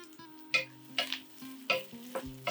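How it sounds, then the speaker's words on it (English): Sliced onion sweating in a hot pot for one-pot githeri, with a low steady sizzle broken by several sharp scrapes and clatters of stirring, close and fairly quiet. "add 1 onion that I peeled and sliced. Have these onions sweat just for a bit"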